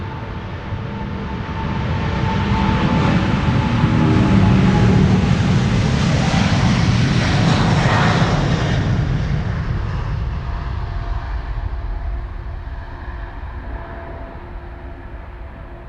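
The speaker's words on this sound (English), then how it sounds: "This is KLM Flight 605 to San Francisco, 777-200 PHBQO." A KLM Boeing 777-200 airliner departing Amsterdam Schiphol on its takeoff roll, a broad jet roar that swells over the first few seconds, peaks loudly near the middle, then slowly recedes with a lingering rumble.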